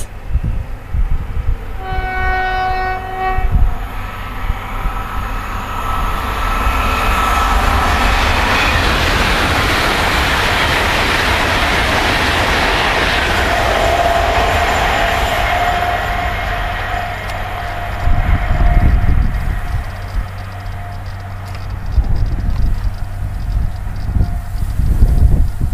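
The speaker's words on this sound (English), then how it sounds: "800-102 LNER Azuma passing towards London King's Cross on the up fast." An LNER Azuma Class 800 train passes on the up fast line near Beningbrough footpath level crossing, opening with a horn and then a loud, sustained roar with rail clatter that fades over about twenty seconds.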